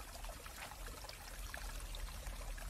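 Small stream flowing steadily, a continuous broadband trickling and babbling with faint bright splashes, soft and even throughout with no voices.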